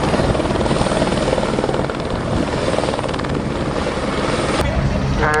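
Helicopters in flight at the Duxford air show, a loud, steady rotor thrum and engine whine filling the air throughout, with a crowd and commentary faintly underneath.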